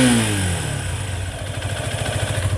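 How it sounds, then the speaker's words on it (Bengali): A Haojue DR160 motorcycle engine runs steadily right after starting. Its pitch sweeps down briefly, then it settles into a close, loud, rhythmic idle with a slight clatter. No one speaks. "বাইকটা স্টার্ট দিয়ে আপনাদেরকে সাউন্ড শোনাচ্ছি"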